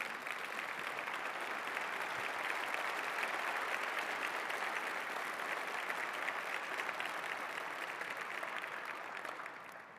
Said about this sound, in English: Please stand up so we can recognize you and applaud you.